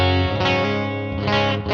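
An electric guitar chord on the single-coil pickup rings out through a Mooer preamp with a crunchy, slightly distorted tone, strummed a few times in succession with sustained harmonics between strikes.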